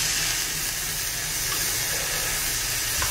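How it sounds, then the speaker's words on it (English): Beans boil in a pot on a biochar stove, giving a steady, even hiss and bubbling sizzle that holds at a constant level throughout, close by, with no talk. "the beans are boiling"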